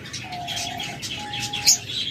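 A pair of lovebirds in a breeding setup gives two drawn-out, thin whistling calls, with a brief sharp chirp near the end, all fairly close and clear against a quiet, hissy room background.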